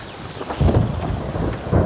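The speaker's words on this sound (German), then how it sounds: "mal regnet's und mal regnet's wieder nicht" Rain falling outdoors with deep rumbles of thunder rolling beneath it, a steady wet hiss through the whole stretch and heavier low swells near the middle and end.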